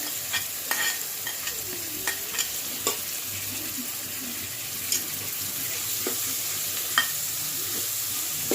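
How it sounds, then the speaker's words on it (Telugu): Onion, green chili and snake gourd pieces fry in a pan for a shrimp and snake gourd curry, a steady soft sizzle broken by repeated scraping strokes of a stirring spoon, close and without talk. "ఉల్లిపాయ పచ్చిమిరపకాయ వేగాక పొట్లకాయ ముక్కలను కూడా వేసేసుకుందాము."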